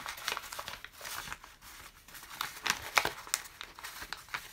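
Paper envelopes crumpled and creased by hand, a close, continuous crackle of crinkling paper with irregular louder crunches throughout and no voices.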